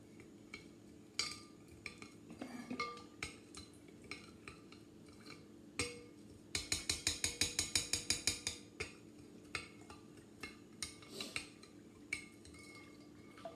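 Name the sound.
stirring salt into cold water until dissolved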